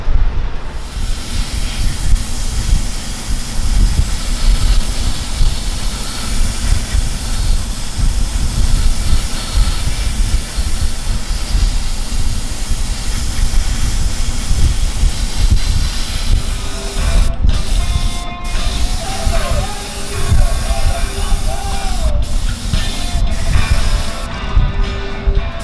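A steady, loud aerosol hiss runs almost without break, with a few short pauses and clicks of the nozzle near the end.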